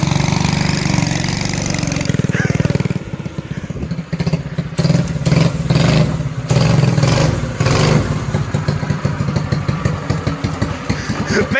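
A home-built gas scooter engine runs at full throttle, a loud, close, continuous buzzing roar with a rapid pulsing rhythm throughout.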